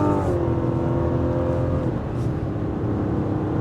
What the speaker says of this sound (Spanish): En cuanto a aceleración, miren que bien suena.